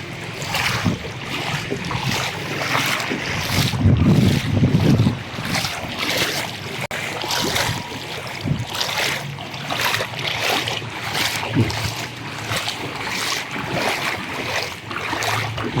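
A motorboat runs through shallow flood water, a steady engine drone mixed with splashing and wash, with gusts of wind buffeting the microphone throughout.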